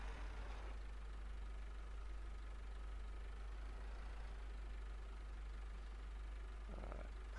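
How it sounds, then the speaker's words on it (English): A small tractor engine in Farming Simulator 15 drones steadily at low pitch, labouring under load with a constant heavy rumble and no talk. "this poor little tractor is really having a hard time here"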